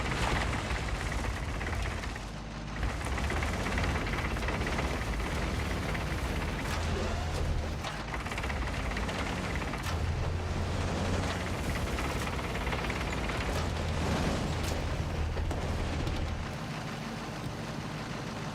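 Aircraft strafing run in a video game, a dense continuous wash of rumbling gunfire and explosions that stays loud for the whole stretch, with low booms rolling underneath.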